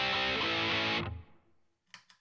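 Loud guitar chords through a Radical Distortion pedal sound dense and saturated for about a second, then stop suddenly and decay, followed by a couple of faint short noises.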